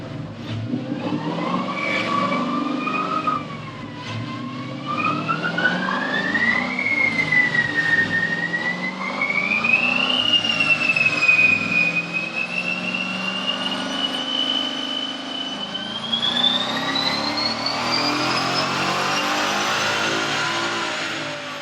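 A 2015 Ford Mustang GT engine revs up through the gears under load on a dyno, pitch climbing steadily in a long, loud, sustained pull with a brief dip midway.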